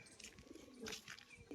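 A tame homer pigeon feeding from a hand gives a few soft, faint coos, brief and close, over quiet background.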